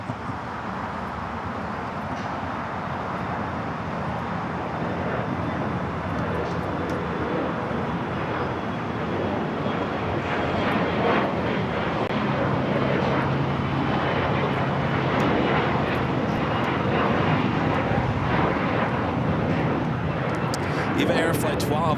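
Boeing 777-300ER jet taxiing or departing at Los Angeles International Airport near the Tom Bradley terminal, a steady, loud engine roar that builds gradually across the whole stretch, with a voice talking over it.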